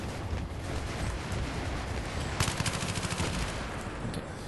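Rapid automatic gunfire rattles in a Battlefield 3 squad deathmatch on Damavand Peak, a steady wash of battle noise breaking into a dense, close burst of quick shots midway, with no talk over it.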